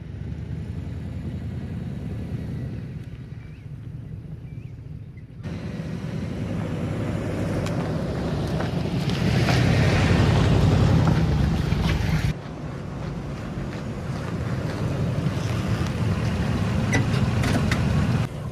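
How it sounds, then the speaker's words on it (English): Abandoned Hummer H2 limousine engine idling rough with a misfire, a steady low rumble that swells louder midway, outdoors with wind buffeting the microphone. "We definitely have a little misfire."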